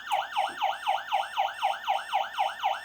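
An electronic fishing bite alarm beeps in a steady, rapid warbling pattern, about ten evenly spaced tones in under three seconds, loud and close with no talking.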